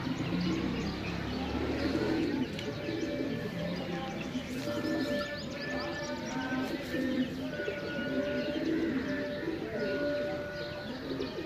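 About 23 pigeons coo in soft, repeated low calls, with scattered chirps and a steady outdoor background hum throughout.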